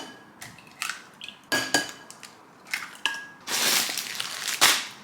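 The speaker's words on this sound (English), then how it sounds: "So first of all, we've got to crack in our eggs." Eggs crack into a bowl in a series of sharp taps and clicks, several separate knocks on a hard rim with crunchy shell sounds and a louder clattering patch near the end, close and clear, with no talking.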